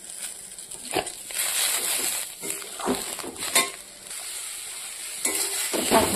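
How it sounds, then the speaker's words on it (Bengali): Greens stir-fried in a home kitchen pan, a steady sizzle and frying hiss with occasional scraping and clinks of the spatula stirring them, close and moderately loud throughout. "শাক ভাজাটা হয়ে গেছে।"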